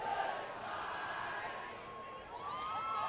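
A high school student section cheers loudly during the Mounds View at Anoka Section 5AAAAAA football quarterfinal, a sustained, somewhat distant crowd roar with individual shouts and whoops rising above the din.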